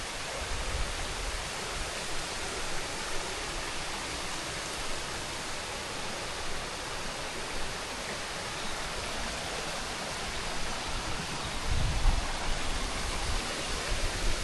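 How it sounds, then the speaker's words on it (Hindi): A monsoon waterfall along the Rajmachi trail near Shrivardhan Fort sends up a steady, full-bodied roar of falling water, unbroken and broadband for the whole stretch, with a slight swell toward the end. "ये सेकंड वाटरफॉल है रास्ते पे"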